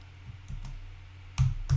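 A few separate keystrokes on a computer keyboard, soft clicks followed by two louder, sharper taps close by, with no one talking.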